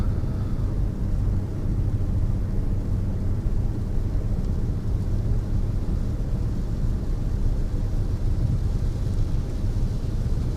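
Heavy rain drums steadily on a car during a road trip near Sukkur in Sindh, a dense, constant roar with low rumble throughout and no talk.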